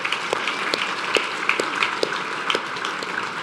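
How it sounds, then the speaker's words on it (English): Audience applause at a university diversity celebration ceremony, a moderate scatter of clapping with distinct individual claps standing out over a soft crowd wash, no talking. "Let's give them a round of applause."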